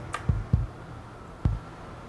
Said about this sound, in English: And there's my new kick drum sound.